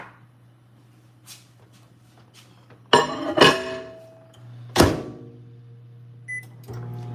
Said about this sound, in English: So I'm going to go ahead and put it back in the microwave.